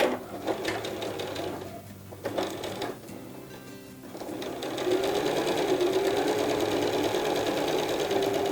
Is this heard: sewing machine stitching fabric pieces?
yes